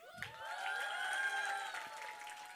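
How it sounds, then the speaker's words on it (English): Students in a high school storytelling audience clap and shout together in a show-of-noise vote, a sustained crowd roar with raised voices carrying over the applause throughout. "Shout and clap and make noise."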